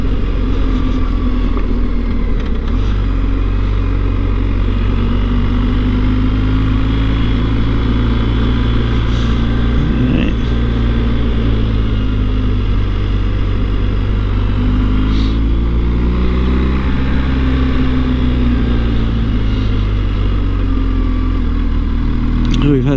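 A BMW GSA adventure motorcycle rides along winding back-road lanes, its engine a loud, steady drone whose pitch rises and falls with gear changes, heavy wind rumble throughout, and a rider talking over it.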